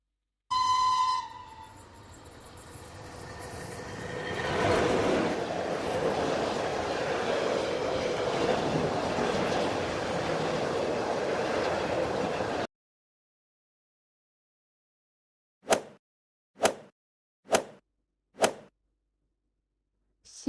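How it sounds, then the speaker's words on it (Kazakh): A cartoon train pulling a tank wagon opens with a shrill steam whistle and hiss, then a long steady rumble of running rail noise. After a pause come four short, sharp whistle blasts. "Бұл цистерна вагоны."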